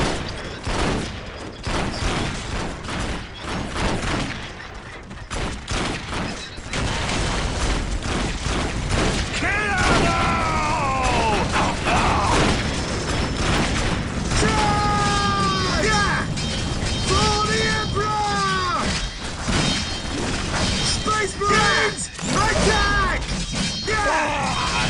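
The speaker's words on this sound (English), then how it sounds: "Taking heavy fire!" Warhammer 40,000 Dawn of War battle noise: dense, continuous gunfire and explosive crashes at high level, with unit voices calling out over the din.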